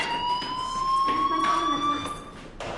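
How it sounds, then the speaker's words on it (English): Fire alarm ringing in the video game Life Is Strange, a steady electronic tone with harmonics sounding continuously at moderate level while a voice talks over it. "do you hear that fire alarm? That means you should be outside."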